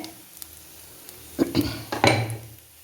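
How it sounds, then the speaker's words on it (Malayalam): Pattiyila thoran leaves go into a pan and get stirred, giving scraping metal clatters and a few knocks of a spoon against the pan, with a faint sizzle. The bursts come close and moderately loud over a quiet kitchen background. "ഇനി നമുക്ക് ഇലകളിട്ട് കൊടുക്കാം"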